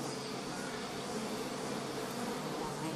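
A dense swarm of honey bees buzzes continuously and intensely up close at a hive under attack by an eagle, forming an unbroken, even drone.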